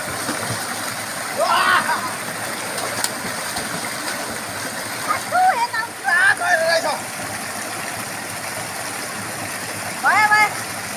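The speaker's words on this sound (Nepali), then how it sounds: "रेली खोला र खारी खोलाको दोभान छ है" River water flows steadily at the confluence of two streams, the Reli and Khari, a constant rushing wash with brief bird-like chirps and occasional voices above it.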